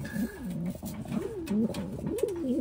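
A racing pigeon cooing close by in repeated low, rolling phrases, with faint background noise and no talking.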